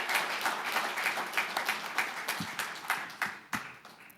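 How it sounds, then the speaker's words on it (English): An audience applauds the authors at a local history talk on the Cherry Mine Disaster, with steady, dense clapping from a sizable crowd that gradually thins and fades, and no voices over it. "give a round of applause to all the authors"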